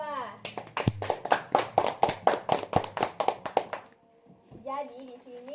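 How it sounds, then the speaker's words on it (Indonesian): A classroom group claps in applause, a quick burst of many hands close by with children's voices mixed in, ending abruptly before someone speaks. "kita berikan aplaus kepada kelompok 2"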